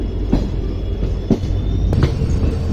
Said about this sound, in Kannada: ನಮ್ಮ ಟ್ರೈನು ಡಿಪಾರ್ಟ್ ಆತ ನೋಡ್ರಿ